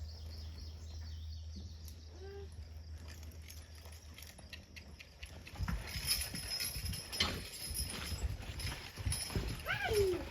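Two-year-old draft horse colts, hitched together as a pair, clip-clop with steady hoofbeats that grow louder and closer partway through, with birds chirping in the background.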